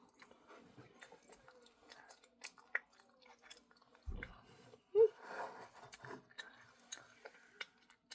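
Cup noodles wrapped in seaweed are chewed up close, with soft irregular mastication sounds, a couple of louder bites and crunches, and a breathy sound partway through.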